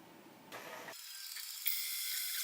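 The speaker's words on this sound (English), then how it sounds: "you're going to want to beat them medium speed for about 5 minutes" An electric mixer beats eggs at medium speed until they turn yellow and frothy for a double chocolate cake. A steady, fairly loud mechanical whir starts partway in and holds evenly to the end, with no talking.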